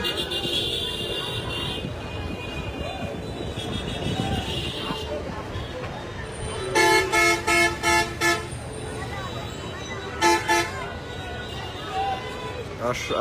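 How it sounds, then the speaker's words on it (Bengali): Slow traffic rumbles on the Gazipur highway during the Eid travel rush, with loud bursts of repeated horn honks in the middle and later, while someone talks over the road noise. "পল্লী বিদ্যুৎ দিকেও গাড়ি আস্তে আস্তে একদম ধীরে আস্তে চলতেছে।"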